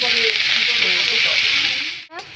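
Mustard greens hitting hot oil with browned garlic and green chilies, a loud, steady, close sizzle that fills the whole moment and dips briefly near the end, with no talking.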